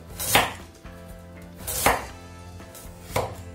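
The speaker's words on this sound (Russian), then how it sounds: "Несколько моркови нарезаем полукольцами." A knife chops carrots into half-rings on a board for a pot roast, three sharp, evenly spaced cuts with a faint tonal hum of kitchen background between them, no voices.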